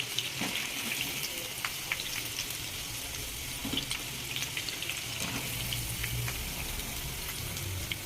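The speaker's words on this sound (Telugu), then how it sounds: "ఈ జీడిపప్పు కూడా వేయించుకోవాలండి." Cashew nuts fry in a pan with a steady, soft sizzle and faint crackles throughout, with occasional small stirring clicks.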